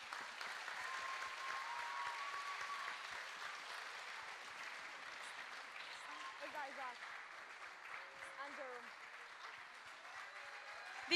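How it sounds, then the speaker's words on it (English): Concert audience applauding tutors on stage at a dance performance, a sustained wash of many hands clapping at moderate distance, steady for the full length with faint voices mixed in. "Can you please give them a round of applause?"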